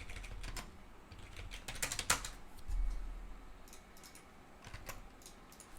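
Someone types code on a computer keyboard in uneven bursts of quick, crisp keystrokes with short pauses between them, close up and without talk.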